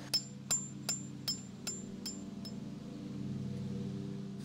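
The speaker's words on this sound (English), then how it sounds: "we tried a bigger chisel with a sledgehammer to see if bigger and harder and would work" A sledgehammer strikes a large chisel into a sticky bitumen and rosin mix aboard a wooden boat. Eight sharp metallic clinks land at a steady rhythm and fade softer over a low background hum.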